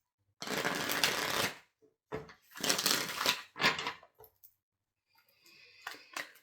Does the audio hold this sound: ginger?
no